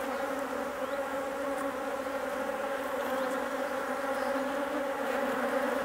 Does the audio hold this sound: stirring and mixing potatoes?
no